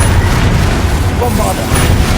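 A Confringo blasting spell goes off in the game Hogwarts Legacy, a dense rumbling burst of booming noise that fills the whole moment, loud and close.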